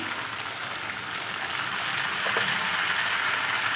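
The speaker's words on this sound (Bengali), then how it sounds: "হলুদ দিয়ে 15-20 মিনিট লাল লাল করে ভাজতে হবে।" Potato pieces with salt and turmeric fry in hot oil with cumin seeds and bay leaf for aloo dum, giving a steady, even sizzle that holds at moderate loudness throughout, with no talking.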